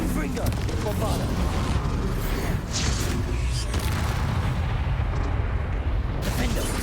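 Spell blasts from the Confringo and Bombarda spells in the video game Hogwarts Legacy, heard as a dense run of loud, booming, crackling bursts over a steady low rumble, with a voice speaking over parts of it.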